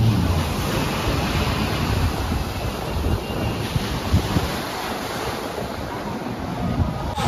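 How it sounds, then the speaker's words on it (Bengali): Sea waves rolling onto the shore at Mousuni Island, a loud continuous roar mixed with gusting wind buffeting the microphone, with no voices. "আর এই দেখুন সমুদ্রের গর্জন"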